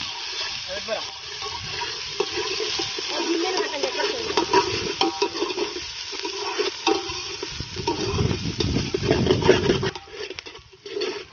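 Chicken is stirred in a pot at a village cookout, with wet scraping and sizzling churning unevenly and swelling louder near the end, while people talk in the background.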